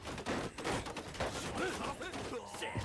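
Gunfire in the Bannerlord Shokuho campaign, a feudal Japanese battle, as a ragged fusillade of musket shots, fairly close and rapid over a busy battle din, with voices mixed in.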